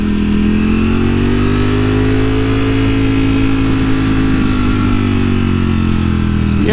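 A Ducati Multistrada V4S runs on the road with its engine droning loud and close at a fairly steady pitch, the note rising slightly near the end.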